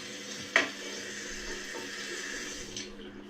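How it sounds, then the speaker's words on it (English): Water runs steadily from a bathroom tap in a steady faint hiss, with a sharp knock near the start and a quieter bump later. "They keep leaving the water on in all the bathrooms and stuff."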